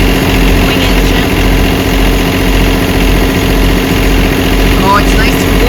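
A boat's wing engine idles loudly close by, a steady low chugging rumble with rhythmic pulses throughout.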